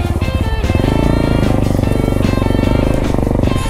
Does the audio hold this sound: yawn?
no